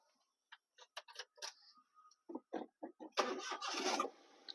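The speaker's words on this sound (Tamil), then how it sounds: "வண்டி இன்ஜின் ஸ்டார்ட் பண்ணிட்டோம்" Scattered clicks lead into a few rhythmic cranking pulses, then the engine of a Maruti Suzuki Alto K10 VXi catches and runs, close by.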